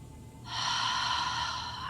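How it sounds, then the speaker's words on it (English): Steady, calm breathing heard through a crackling radio, a single long breath emerging after a brief quiet moment and holding evenly, close and noisy like a filtered transmission. "And you can hear breathing through this"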